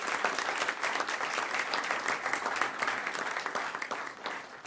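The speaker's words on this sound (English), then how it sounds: "So I think we deserve a nice round of applause for Leslie Ayala." Applause at a school board meeting, a steady, even round of clapping from a modest crowd. It is heard somewhat distant and quiet, fading slightly near the close, with no talking over it.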